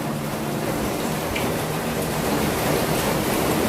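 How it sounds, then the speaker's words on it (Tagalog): Rain falling outdoors onto a garden plot, a loud, dense and steady hiss of downpour that stays even from start to finish, with no talk. "Umuulan na talaga mga kabay."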